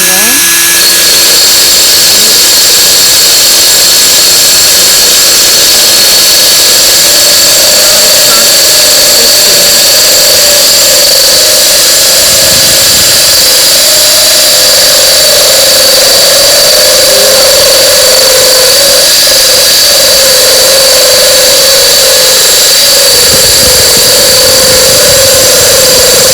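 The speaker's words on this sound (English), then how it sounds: "I'm letting the drill bit do the work." Power drill boring a drainage hole in a planter, running as a steady, continuous whine with a constant motor drone for the whole stretch, close and loud, with no pressure pushing the bit.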